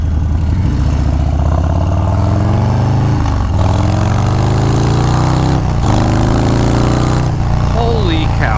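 A 2019 Harley-Davidson Street Bob with a Stage 4 engine upgrade revs loudly and close inside a shop, its throaty note rising and falling over several seconds without a break.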